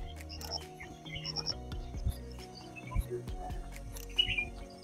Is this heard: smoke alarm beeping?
no